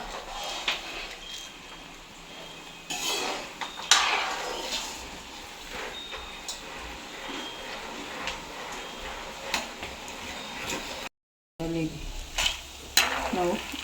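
Crackling sizzle of peanuts frying in hot oil for Diwali mixture, with scattered sharp pops and ticks, steady and close, plus a brief stir and clatter.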